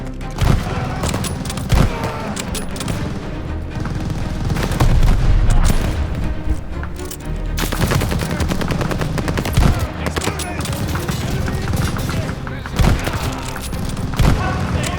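Machine gun bursts and rifle shots crackle almost nonstop through a Call of Duty: Vanguard battle at Merville, France, 1944, with booming impacts layered in and shouted voices mixed into the loud, dense firefight.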